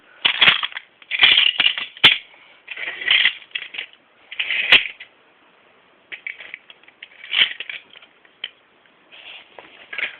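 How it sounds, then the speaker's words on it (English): Toy trains in a Thomas story, trucks crashing into the engine Molly: repeated clattering, crunching bursts of rattling metal in bunches with short pauses between, close and fairly loud, no talk. "the trucks crashed into her"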